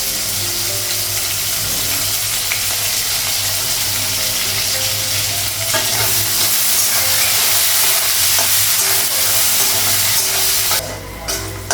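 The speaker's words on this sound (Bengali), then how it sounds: "কাঁচা লঙ্কা, পেঁয়াজটা ভাজি," Green chillies and onion frying in a pan in a Bengali home kitchen, a steady loud sizzle with occasional stirring scrapes and a burst of hiss near the end.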